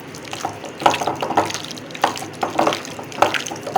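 Soy sauce and vinegar being mixed together for chicken Manchurian give a close series of small liquid splashes and stirring clicks in an irregular rhythm.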